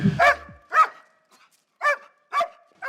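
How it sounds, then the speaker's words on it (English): Guard dogs at a high-tech prison bark sharply and close by, five distinct barks in an uneven rhythm with short gaps of silence between them. "And the dogs are used more visually. They're noisy and they react, and the prisoners tend to withdraw immediately."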